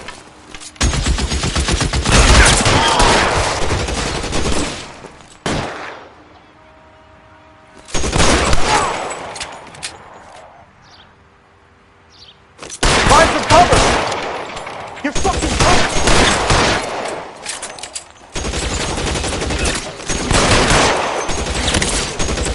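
Loud, repeated volleys of gunfire in the L.A. Noire video game, with several intense bursts of shooting separated by quieter gaps.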